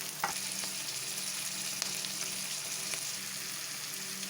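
Vegetables fry and are stirred in a pan for a brinjal and drumstick sambar, giving a steady close sizzle with occasional light scrapes and no talking.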